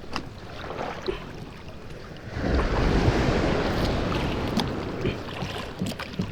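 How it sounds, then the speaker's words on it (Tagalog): Big ocean waves crash and surge around a small outrigger boat on the sea in the Philippines. A loud, continuous rush of water builds after a few seconds, with gusty wind buffeting the microphone and occasional knocks on the hull. "Malaki pa rin ang bagsak ng alon mga guys."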